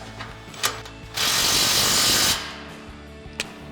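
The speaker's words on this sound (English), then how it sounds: "So we'll start with our 13 mil socket on our impact again," An impact wrench with a 13 mm socket tightens exhaust clamps on a 2019-2024 Silverado/Sierra 1500 Borla S-Type dual exhaust, giving one loud, steady buzzing burst of about a second, with a few faint clicks before and after.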